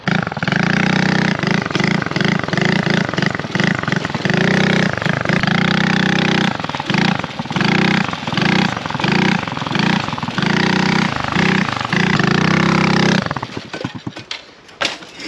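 A homemade three-wheeled trike engine runs loud and close, a rough motorcycle-like putter that revs up and down in repeated bursts before cutting off near the end.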